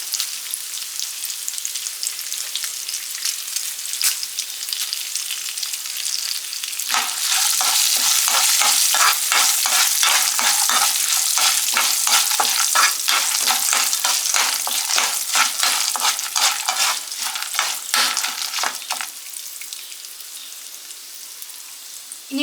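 Chickpeas and curry leaves stir-fry in hot oil in a pan for lemon rice, a steady close sizzle that swells loud and dense with scraping stirs partway through, then eases back.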